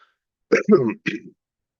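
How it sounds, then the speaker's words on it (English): A man coughs and clears his throat in three quick, close bursts, then falls silent. "Excuse me if you hear me coughing"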